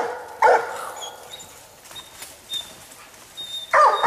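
A bluetick hound bays at a raccoon up a tree on a coon hunt, giving two loud, drawn-out bawls a few seconds apart, with quieter woods noise and faint sounds between them.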